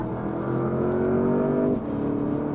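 A 2024 Porsche Panamera Turbo E-Hybrid launches on electric power alone, a steady whirring motor tone with rising harmonics that holds, then drops slightly as the car pulls away, moderately loud with no talking.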